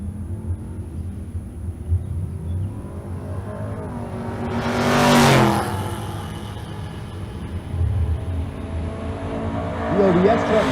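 A 1st Gen Firebird and an OBS Silverado truck launch side by side in a drag race at State Capitol Raceway, engines swelling into a loud roar that peaks mid-run and fades, with crowd noise and talk around it.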